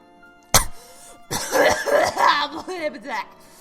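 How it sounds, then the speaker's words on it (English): A person coughs once sharply, then coughs and clears the throat in a longer rough burst, close and loud in a quiet room, with a voice trailing into speech afterward. "sorry for my gross coughing."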